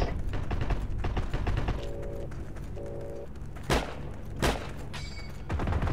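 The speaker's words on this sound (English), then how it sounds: "There's Germans right at the bridge shooting at them." Gunfire from Germans at a bridge in a video game: a low battle rumble broken by a few sharp, scattered shots and bursts, mid-distance and fairly loud.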